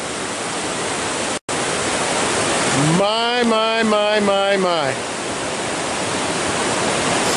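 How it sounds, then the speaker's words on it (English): Broad, steady rush of the Hoh River flowing in Olympic National Park, a constant close water roar filling the whole clip, with a brief voice rising over it midway. "That is the Ho River"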